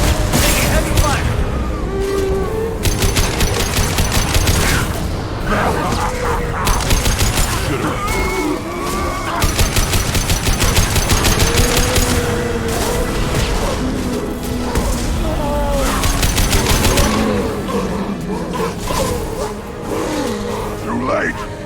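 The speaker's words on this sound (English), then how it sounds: "Taking heavy fire!" Heavy gunfire rattles in dense, rapid bursts through a Mass Effect 2 firefight, loud and nearly continuous, with shouted voices breaking in over the shooting.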